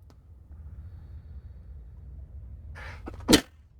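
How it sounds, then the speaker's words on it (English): A single abrupt sneeze bursts out near the end after a quiet stretch of low room rumble, close and loud, preceded by a brief breathy intake. "I had like a sneeze coming."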